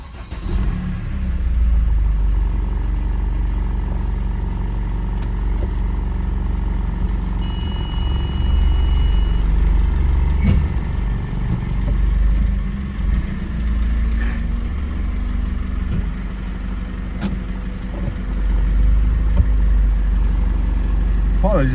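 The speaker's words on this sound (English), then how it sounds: "And I'll put the engine on again." A 2011 Mercedes A-Class W169 with a 2.0 diesel engine, showing ESP and brake pad wear faults, idles with a steady low rumble, heard close and continuous.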